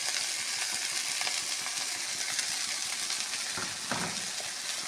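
Water spinach fries with green chili paste, salt and a little turmeric in a pan, giving a dense, steady sizzle up close, with a couple of soft stirring scrapes near the end and no talking.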